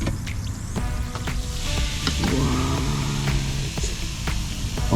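A kids' volcano experiment with mixed colours fizzes and bubbles loudly and close. The steady frothing hiss runs throughout, with faint background sounds.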